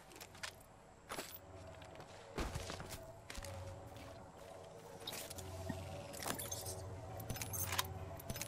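A healing item in Apex Legends is used to patch up, giving off light metallic jangling and clinking with a few soft thuds over a low rumbling background.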